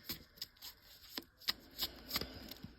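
Tarot cards are shuffled close by and quietly. Soft papery flicks and taps come in an uneven rhythm over a few seconds, with no voice.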